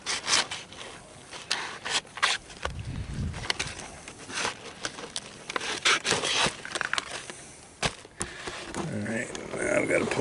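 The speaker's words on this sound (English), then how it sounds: "I'm just going to cut that part out." Rough rasping and scraping as a blade cuts through a damaged garden hose, uneven strokes with sharp clicks and pauses, close and fairly loud, with someone speaking at points.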